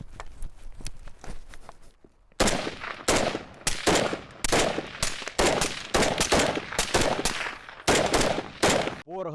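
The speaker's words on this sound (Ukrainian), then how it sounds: "трохи постріляли, трохи порозганяли фулавто" A CZ BREN-2 rifle fires full-auto in repeated loud bursts, each about half a second long, separated by brief pauses, after a stretch of quieter rapid shots.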